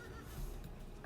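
A horse in Dungeons and Dragons Online gives a short neigh, a brief quiet whinny over a low game background, with no talking.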